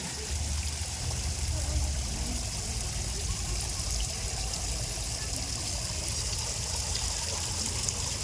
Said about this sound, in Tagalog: Kaya pala may tubig.